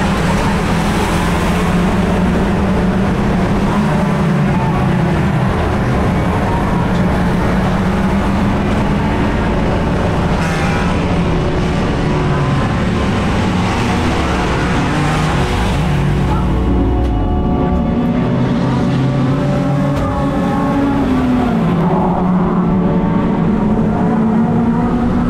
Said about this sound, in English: as I sat there revving the car, I already knew all was not well.